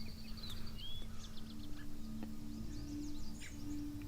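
Birds chirp and trill in open air in a Florida swamp, several calls overlapping at mid distance, over a steady low hum and faint insect buzz.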